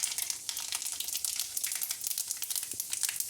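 Cumin seeds crackle and sizzle in hot oil, with a steady, close frying hiss broken by small pops.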